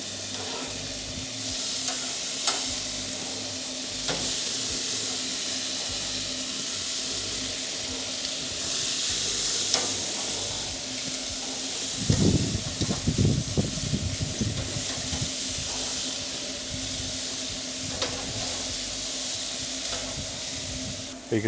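Asian-style pork belly sizzles steadily on a grill with flare-ups, a dense continuous hiss of fat and juices broken by louder crackling pops in the middle, close and constant throughout.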